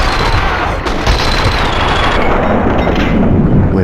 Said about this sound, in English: Someone must have heard the gunfire.